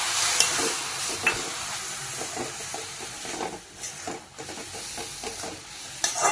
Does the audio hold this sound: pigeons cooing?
no